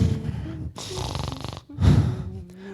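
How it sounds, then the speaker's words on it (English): Loud, close snoring, three long raspy breaths with brief pauses between them, each rough and nasal. "Pitcher had been sleeping on the table and snoring"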